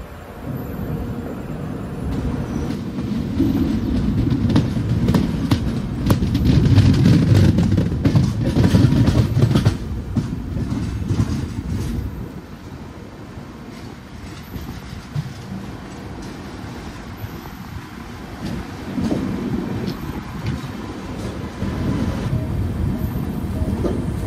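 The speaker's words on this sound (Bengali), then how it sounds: "এই ট্রেনটা ভদ্রেক স্টেশনের প্ল্যাটফর্মে ঢুকে গেল।" The Howrah–Puri Superfast Express rolling slowly into Bhadrak station platform, a heavy rumbling and rattling of coaches that swells and then eases off, heard from on board.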